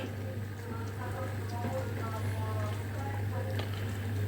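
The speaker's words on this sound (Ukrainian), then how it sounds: "І вода вона почала потихеньку бурлити." Soft, continuous water bubbling in a sous vide cooker holding smoked balyk, over a steady low electric hum, with faint voices murmuring in the background.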